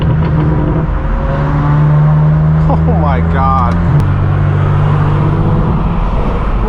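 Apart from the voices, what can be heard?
supercar engines starting and revving at hypercar rally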